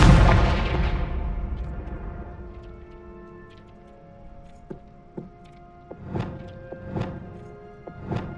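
A Confringo fire spell in Hogwarts Legacy bursts with a loud opening blast that fades, followed by a series of sharp thuds and impacts spaced about a second apart.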